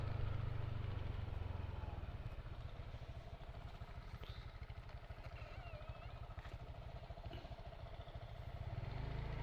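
A motorcycle engine idles steadily with a low, even putter, fairly faint and close, with light background noise around it.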